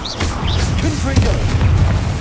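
Confringo fire spell bursting in Hogwarts Legacy, a short series of booming blasts and pops within game combat, with a voice speaking over parts of it.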